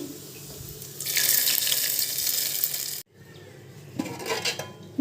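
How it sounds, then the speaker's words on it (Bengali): Browned tempering poured into thin Bengali khichuri, giving a loud watery splash and sizzle that runs for about two seconds, cuts off, then returns more faintly near the end. "এখন আমি খিচুড়ির মধ্যে ঢেলে দিচ্ছি।"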